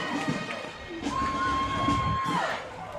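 High school football crowd cheering after a score, with a rowdy mix of shouts and voices, a long sustained whistle-like tone in the middle, and the crowd fairly close and loud throughout.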